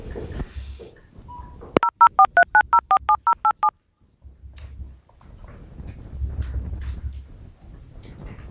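A telephone dialing out during a court inquest call, about ten evenly spaced touch-tone beeps, loud and clear, followed by a short ring tone. Quiet murmuring and background room noise come before and after.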